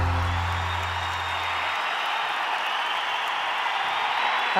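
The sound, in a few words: audience applause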